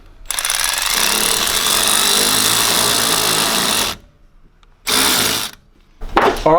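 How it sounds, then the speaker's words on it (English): A power tool tightens a hose clamp on a Mitsubishi Triton intercooler hose, a loud steady buzzing whir for about four seconds, then two shorter bursts after brief pauses, close up and without speech. "you want to bring the hose clamp around into position, making sure it's perfectly aligned, and of course tighten it up"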